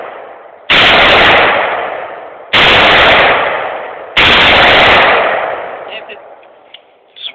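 AR-15 rifle being bump fired outdoors, three loud rapid-fire bursts, each ending with a long decaying echo, close and dominant, with faint voices afterward.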